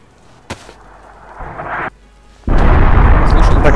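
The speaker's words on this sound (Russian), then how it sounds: "Это взрыв" A distant explosion in DayZ rolls in as a muffled, rumbling boom that swells into a sustained loud roar, preceded by a faint sharp crack, with no talk.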